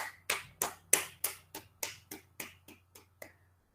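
About a dozen sharp, evenly spaced claps ring out close by in a quiet room, fading slightly toward the end, sounding more like a small group's rhythmic clapping than sustained applause.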